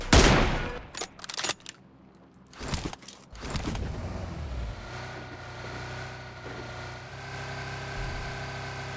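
M24 sniper rifle shots in PUBG Mobile ring out as several sharp, loud cracks in the first few seconds, followed by a steady engine hum.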